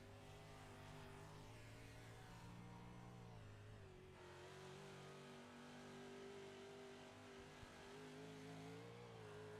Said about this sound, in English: You can hear him working the throttle inside that 515 machine.